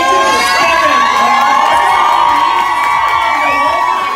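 A crowd at a live music album-launch performance in South Africa cheers and whoops loudly, a dense sustained roar with high shouts and screams throughout.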